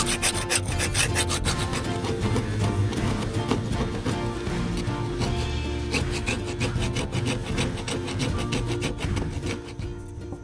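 Sandpaper rubbing across a boat's surface during hull fairing, a dense steady scratching rasp repeated in quick back-and-forth strokes, close and continuous throughout without talk.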